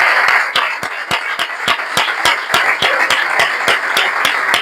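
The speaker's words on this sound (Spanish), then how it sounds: "¿qué tal si a Dios que está ministrando le damos un fuerte aplauso?" Loud, dense applause fills a church as the congregation claps together. The claps come at a quick, steady beat over a constant wash of scattered hand noise, and no one speaks through it.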